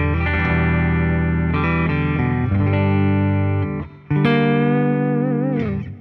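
A B.C. Rich Mockingbird Legacy ST electric guitar played through a Fender Deluxe Reverb tube amp, with effects-laden sustained notes and chords ringing out loudly, a brief drop near the four-second mark, and no talking.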